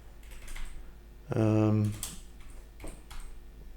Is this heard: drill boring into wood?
no